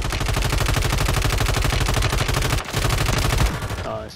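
Rapid automatic gunfire in an online shooter video game, a dense, loud, continuous burst of shots running for several seconds with a brief pause near the end.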